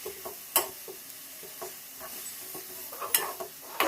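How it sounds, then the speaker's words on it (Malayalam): Garlic, shallots, tomato and ginger being stirred in a pan for a fish curry, with a soft sizzle under repeated scraping strokes of a spoon against the pan and a few sharper clinks. "നമുക്ക് നന്നായിട്ട് ഒന്ന് മിക്സ് ചെയ്തെടുക്കാം."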